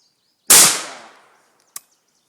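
A single-shot shotgun fires one loud, sharp blast that rings out and decays over about a second, followed by a brief faint click.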